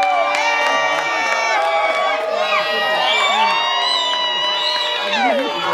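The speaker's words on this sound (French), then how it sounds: "Applaudissements." Guests at a civil wedding ceremony cheer, whoop and shout loudly and continuously, a dense crowd of excited voices close by.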